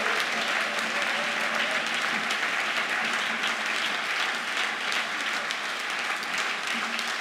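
Church congregation at a national laity worship service applauds continuously, a dense steady clapping that holds at full loudness throughout with no pauses.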